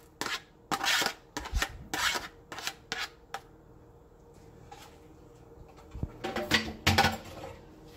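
Mashed banana being stirred into eggless chocolate cake batter in a bowl, with close, irregular scraping and rubbing strokes in quick clusters separated by short quiet pauses.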